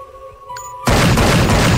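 A single abrupt, loud gunshot blast in the flash video game Thing Thing 1, bursting out after a quiet moment and sustaining into a noisy boom.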